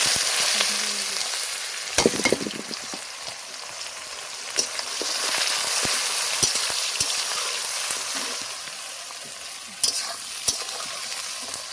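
Onions sizzle steadily in hot oil that was used to fry potatoes, with bay leaf and garam masala, for chicken biryani. Close, continuous frying with scattered sharp stirring clacks and a few louder scrapes, no voices.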